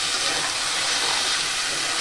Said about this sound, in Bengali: একটু সামান্য ভেজে নিলাম, সাইড দিয়ে তেল ছেড়ে দিয়েছে আমার।